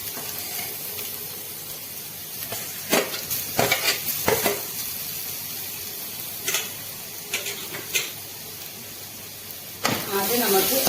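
Grated coconut frying in hot oil over high flame for a sardine chammanthi podi, a low steady sizzle with sharp intermittent clanks and scrapes of a spoon against the pan.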